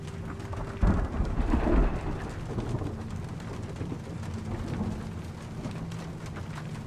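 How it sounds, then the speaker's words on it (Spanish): Rain pours steadily in a Peruvian jungle in Shadow of the Tomb Raider, with a close rumble of thunder breaking in early and fading off, the downpour continuing softly afterward. "La tormenta se ve mal."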